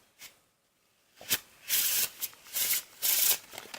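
A deck of playing cards riffles through a faro shuffle in several short, crisp bursts of fluttering card noise, close and fairly quiet, with a brief pause between the first flick and the rest.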